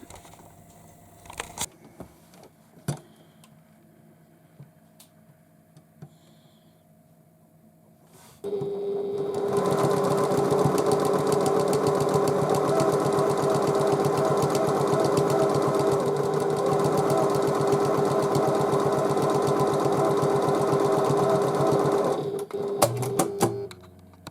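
After several seconds of quiet clicks and handling, a sewing machine stitches the lining of a tote bag divider pocket in one long, steady, loud humming run with a rapid mechanical chatter, stopping near the end.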